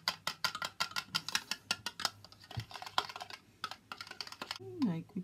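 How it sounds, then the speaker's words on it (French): Fast, rhythmic tapping of a whisk beating a homemade cosmetic mixture (eye-contour cream with a powder and a liquid) until stiff, close and steady with brief pauses; a voice speaks briefly near the end. "Allez, on fait monter les blancs de neige."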